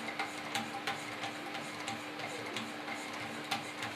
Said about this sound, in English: So I've got my strops on and I'm at 17 degrees and I just begin working like this.